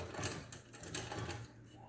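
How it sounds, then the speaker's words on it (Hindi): A sewing machine stitches blouse fabric in a short, fairly quiet run, its mechanism ticking and whirring briefly close by. "अब हम इस पर सिलाई लगाएंगे।"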